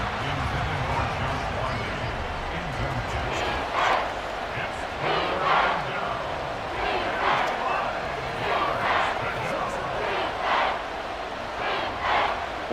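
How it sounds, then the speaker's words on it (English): Large stadium crowd at an NFL football game between the Tennessee Titans and Houston Texans roars in rising and falling waves, loud and dense, with surging cheers building toward a big third down. "the crowd getting into it as we come up on a big third down"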